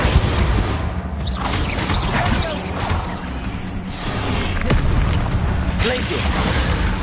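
Spells exploding in Hogwarts Legacy: repeated booms, whooshes and crashing bursts from the game's combat, loud and busy, with a voice shouting over the effects.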